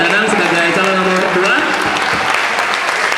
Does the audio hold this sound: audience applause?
yes